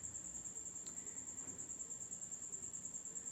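Steady high-pitched cricket chirping at night, a continuous faint trill over quiet background hiss, with no talking.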